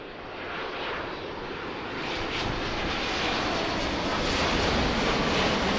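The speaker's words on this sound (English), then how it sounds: "Love to watch the Dreamliners land from up here." A Boeing Dreamliner jet takes off from Philadelphia, a broad, steady engine roar that swells slightly louder over several seconds, heard from a distance with no talk.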